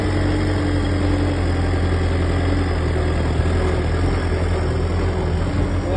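Skid steer engine running steadily nearby, a loud, constant low rumble with an even idle drone that holds without change throughout.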